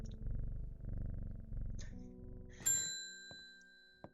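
Cat in the video game Strange Horticulture purring as it is petted, a low rhythmic rumble for about two seconds, followed by bright chime and bell tones ringing out.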